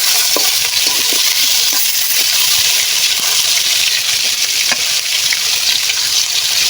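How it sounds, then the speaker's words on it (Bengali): Chicken pieces deep-frying in soybean oil in a kadai give a loud, dense, continuous sizzle close by, broken by scattered clinks and scrapes as pieces are added and turned. "কড়াইয়ের মধ্যে সয়াবিনের তেল দিয়ে একে একে মুরগির পিসগুলো দেখো ভেজে নিচ্ছি"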